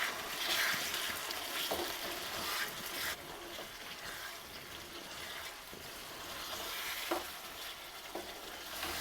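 Potato curry simmers in a pan after water has been added, giving a soft, steady bubbling sizzle with occasional scrapes of stirring, close and fairly quiet.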